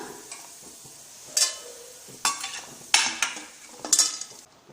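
Lentils sautéing in a pan for a pear chutney, with a spoon stirring and scraping through them in several distinct bursts over a soft frying hiss, close by and with no voices.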